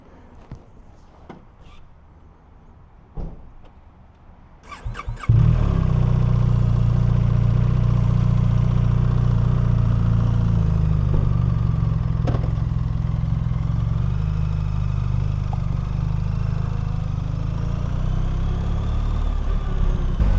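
A BMW R 1300 RT motorcycle starts after a few seconds of quiet, its engine catching abruptly and settling into a loud, steady running drone as the bike rolls off.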